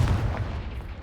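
A Confringo blasting spell explodes in Hogwarts Legacy, a short, loud, low booming blast with rumbling body that fades quickly.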